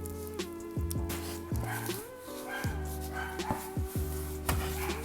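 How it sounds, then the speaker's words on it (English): A pet dog barks repeatedly in short, loud, close bursts, several yaps spread across the moment, indoors while a package is being unboxed, with rustling in the background. "That's my dog."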